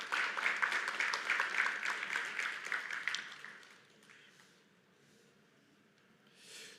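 Conference audience applauds a speaker at a tech event stage, a round of clapping for about three seconds that then fades to quiet room tone, with faint murmur near the end.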